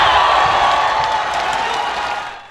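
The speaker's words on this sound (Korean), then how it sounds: "환상적인 랠리에 이어 차요심의 드라이브가 꽂히자 관중석에서는 탄성이 쏟아졌습니다" A table tennis crowd at a match roars with gasps and cheers after a long rally. The dense, loud swell of voices fills the hall and then slowly fades away.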